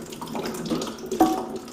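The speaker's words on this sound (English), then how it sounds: "Notice the water coming out." Water trickles and splashes from a loosened toilet flow valve, an irregular close gurgle with a sharper spurt near the end and no talk.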